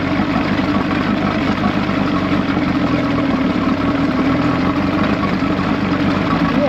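A 1986 Johnson 90hp SPL outboard motor runs steadily after carburetor linkage sync and ignition timing adjustment, a loud, even low engine drone close by with no talk.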